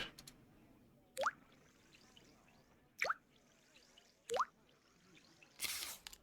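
Solvent dripping from a pipette in the Sherlock Holmes: The Devil's Daughter video game, three separate, crisp liquid drips spaced over a few seconds, followed by a brief burst of noise.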